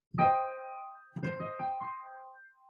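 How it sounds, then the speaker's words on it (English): A minor chord sounds on a piano, held and ringing with a darker colour, followed by several shorter chord strikes in a loose rhythm before the tone fades, played close and alone. "And a minor chord has a darker sound like this."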